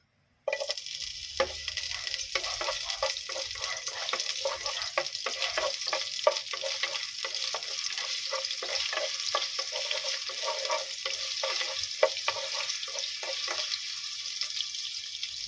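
Ginger hits hot oil in a pan and sizzles steadily, with a constant crackling hiss and scattered scraping stir clicks throughout, all close and with no talking.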